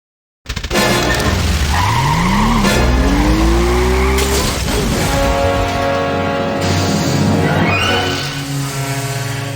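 In the video game Goodbye Deponia, a car starts up loudly and pulls away, with a rising engine whine and squealing tyres as it drives off, clear and close.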